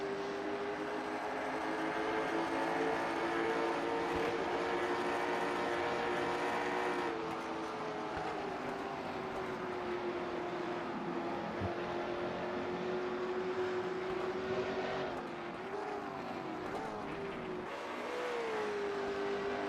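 Trans Am race cars rumble around the track at night, a loud sustained engine drone with shifting pitch as cars pass and rev, heard continuously without talk.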